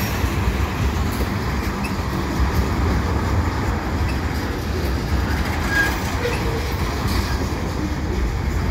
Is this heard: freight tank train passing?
yes